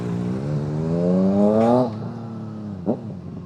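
A motorcycle engine revs up with a rising whine, then drops off sharply, followed by a quick blip of throttle; nearby and fairly loud.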